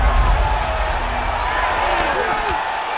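A virtual arena crowd at a UFC bout in the EA UFC 5 video game applauds and cheers steadily at moderate level, with a couple of sharp slaps near the end.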